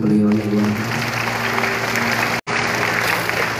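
Audience applause at an Islamic talk session, a dense wash of clapping from a gathered crowd with a brief dropout midway.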